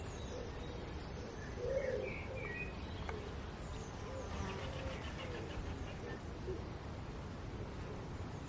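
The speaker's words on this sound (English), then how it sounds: "Listen to the pigeons." Pigeons coo softly on a Sunday morning at a café table, with faint chirps and a steady murmur of outdoor background noise.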